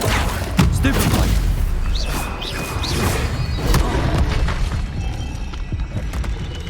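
Spell impacts in a Harry Potter video game: a dense, loud wash of crashing, booming bursts under constant game ambience, with short bright magical chimes rising through the middle.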